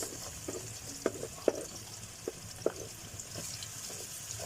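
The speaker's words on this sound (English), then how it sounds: "Right now I'm going to be adding my chopped onions. The oil is already hot." Chopped onions go into already hot oil, setting off a soft frying sizzle with a few scattered clinks and splashy pops from the pan, close and fairly quiet, with no talking.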